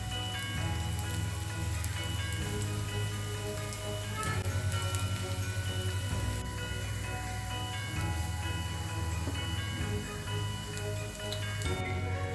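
Matar nuggets of green peas pan-roasting over medium gas in an appe pan, a steady dense sizzle and crackle running throughout with faint ticking pops, no talk.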